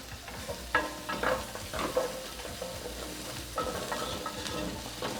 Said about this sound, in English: So we stir this in nicely.